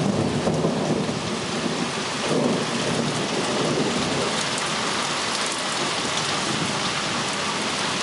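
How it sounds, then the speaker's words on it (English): Heavy rain pours steadily during a thunderstorm in Stamford, Connecticut, in a dense, loud hiss, with a low rumble of thunder mixed in throughout. "it's raining pretty hard right now"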